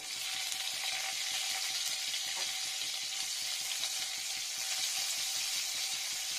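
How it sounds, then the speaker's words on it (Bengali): Onion frying in oil in a pan, a steady bright hiss and crackle of sizzling that stays even and close for the whole stretch, with no talk. "পেঁয়াজটা একটু ভালো করে ভাজা হবে।"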